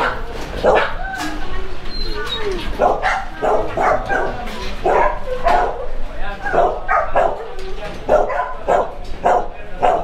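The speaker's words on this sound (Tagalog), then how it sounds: "Napakadaming aso dito." Many dogs bark at once at a large farm kennel in Bulacan, housing breeds like Rottweilers, Dobermans and Cane Corsos: a dense, overlapping chorus of loud barks and yips, close by and continuous throughout.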